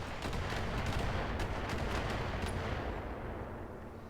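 Dense, continuous heavy gunfire in BattleTech, a turret pounding a mech with rapid overlapping shots and rumbling impacts that fade slightly toward the end.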